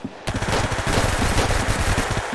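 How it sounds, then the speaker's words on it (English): Rapid paintball gun fire in an arsenal-style shooter game, a fast continuous rattle of shots lasting about two seconds, loud and close. "I have this garbage paintball gun"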